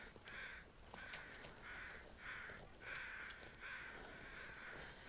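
Crows caw repeatedly in the video game The Long Dark, about six harsh, evenly spaced calls at a steady rhythm over a quiet outdoor wind-like background, with no speech.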